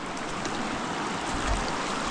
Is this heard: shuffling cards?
no